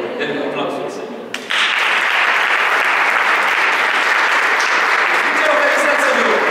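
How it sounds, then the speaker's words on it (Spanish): A church congregation applauds loudly and steadily during a Spanish-language service, the clapping swelling in after a brief spoken moment and holding as a dense roar. "Denle un aplauso al Señor."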